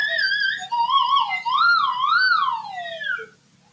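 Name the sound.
slide whistle being played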